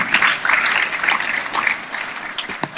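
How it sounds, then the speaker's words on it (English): An audience at the opening ceremony of the Tanzania International Model UN 2020 applauds to welcome Oscar Kimaro of Plan International. The clapping is dense and steady and fills the room, then thins toward the end. "Please, a round of applause"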